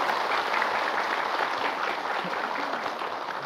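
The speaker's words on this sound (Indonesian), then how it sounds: "Tepuk tangan dulu untuk semuanya" A television studio audience at an Indonesian morning religious programme breaks into steady, dense applause that stays loud and even the whole time, with no voices standing out.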